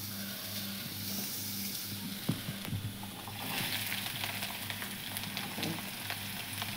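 Ridge gourd curry with salt and turmeric simmers and sizzles steadily in a pan, a continuous soft frying hiss with a few faint clinks, no talking.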